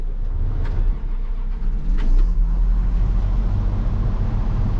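Farm tractor with a bad hydraulic pump seal and low on hydraulic oil, its engine turning over and then settling into a loud, rumbling run, with a couple of brief clanks early on.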